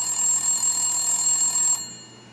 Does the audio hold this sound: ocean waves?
no